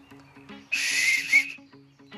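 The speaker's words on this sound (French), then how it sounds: "un homme préhistorique avec un sifflet" A single sharp, shrill whistle blast cuts in for just under a second, between faint low tones before and after.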